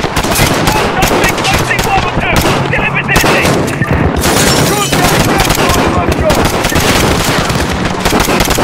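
Dense, loud automatic gunfire from Call of Duty: Modern Warfare (2019) crackles in rapid bursts throughout, with booming shots layered on top and voices calling out under the shooting.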